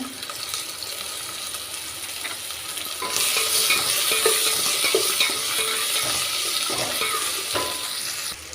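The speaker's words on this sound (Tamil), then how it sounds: "வெங்காயம் பூண்டு பாருங்கள் நல்லா வதங்கிருச்சுங்க" Small onions and garlic frying in a pan with curry leaves and rock salt for a village-style poricha kulambu, a steady sizzle that grows louder partway through, with clinks and scrapes of stirring.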